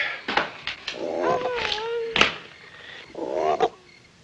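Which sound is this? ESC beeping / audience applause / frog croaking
frog croaking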